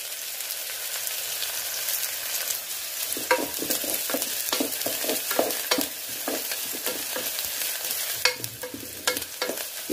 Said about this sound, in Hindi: प्याज को थोड़ा हल्का सा होने देते हैं।